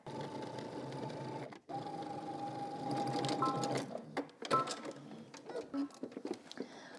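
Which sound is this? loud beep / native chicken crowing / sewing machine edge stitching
sewing machine edge stitching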